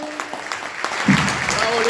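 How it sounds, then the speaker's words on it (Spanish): Audience at a UFO-studies congress applauds Luis Emilio Annino as he is welcomed, clapping rising under and after a voice that is still talking over it. "Quiero que recibamos con un fuerte aplauso a Luis Emilio Anino"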